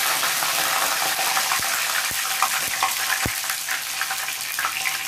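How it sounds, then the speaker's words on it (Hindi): Mustard seeds, cumin and curry leaves fry in hot oil in a pan for poha, giving a steady close sizzle with scattered sharp pops and crackles, with no talking. "और सरसों के दाने, और साथ में डालें कुछ कड़ी पत्ते।"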